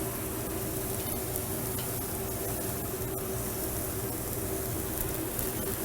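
A kitchen vent hood fan running steadily over the stove, a constant broadband whoosh with a faint hum and no breaks, with a light sizzle-like hiss mixed in.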